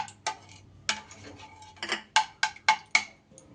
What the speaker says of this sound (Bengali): তাই আমি এখানে হ্যান্ড উইক্সটা ব্যবহার করলাম